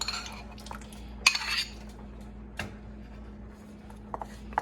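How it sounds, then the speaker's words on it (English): A metal spoon adds tomato paste to a pan of vegetables and roast juices for Panamanian ropa vieja, making a few sharp clinks and scrapes against the pan over a quiet, steady background hum. "Now I'm going to add the 3 tablespoons of tomato paste."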